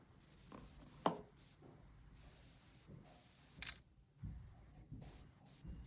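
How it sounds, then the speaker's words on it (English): An analog camera shutter gives a single crisp click, followed by a few quieter mechanical clicks and soft handling noises in an otherwise hushed setting. "Just a little shutter sound."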